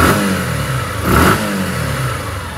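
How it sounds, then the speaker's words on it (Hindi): A nearby Suzuki Gixxer SF150 motorcycle engine runs loud, swelling in a brief rev around the middle before dropping back to a rough, steady rumble. "रेव और सही से सुनाते हैं आप लोगों को साउंड"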